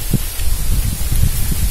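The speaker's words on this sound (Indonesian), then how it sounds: "merasakan, menikmati angin yang sepoi-sepoi di sini" A gentle breeze stirs leaves in a forest, a steady close rustle and hiss with low wind buffeting against the microphone, no voices present.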